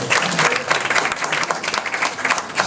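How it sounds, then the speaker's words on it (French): A closing conference audience applauds steadily, dense and loud, with no voices over it. "que je vous demande également d'applaudir"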